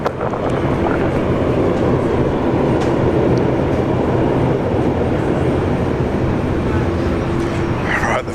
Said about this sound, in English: I always enjoy seeing a Fokker departure.